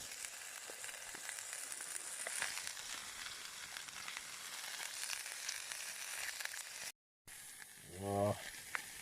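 Food fries in a pan for a Rogan Josh cooked during an overnight kayak trip at Lake Coleridge. A soft, steady sizzle continues throughout with faint crackles, quiet and close, briefly cutting out near the end.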